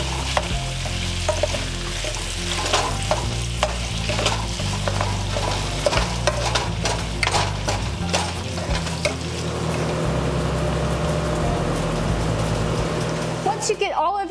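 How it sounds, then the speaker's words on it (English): Ground beef seasoned with garlic salt browns in a large skillet, giving a loud, continuous sizzle with frequent scraping and stirring knocks close up. "cook your ground beef until browned and cooked through"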